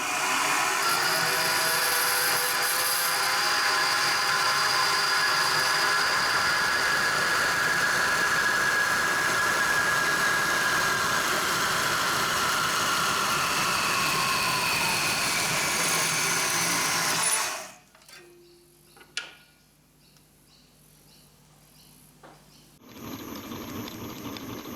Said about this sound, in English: I'll go and slice off a bit in the bandsaw